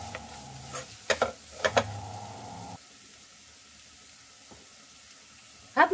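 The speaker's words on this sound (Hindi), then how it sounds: "दो टीस्पून के करीब मैं इसमें धनिया पाउडर ऐड कर रही हूँ और इसे हम अच्छे से मिक्स कर देंगे।" Coriander powder being stirred into a chicken keema masala in a pan, with a few quick spoon scrapes and taps over a soft sizzle, then a quieter stretch and one last clatter.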